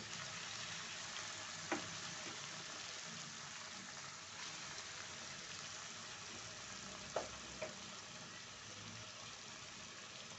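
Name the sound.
cabbage added to a pan and frying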